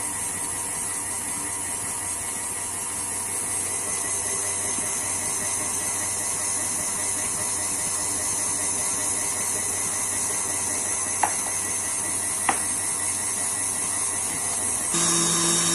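An electric mixer beating buttercream as small pieces of butter are added at reduced speed, a constant high whirring hiss with a steady motor drone, broken by two faint clicks near the end before the tone shifts.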